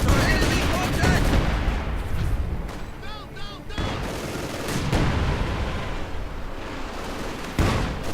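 An artillery barrage erupts in a World War II strategy video game battle with field guns and an MG42 crew. Dense, overlapping gunfire and booms rumble for several seconds, with sharper blasts near the start and end.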